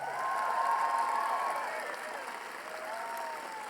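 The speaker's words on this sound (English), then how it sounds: "Another round of applause for Vicki." Crowd applause for Vicki at a political rally in Madison, Wisconsin, sustained clapping and light cheering heard from some distance, moderately quiet and steady.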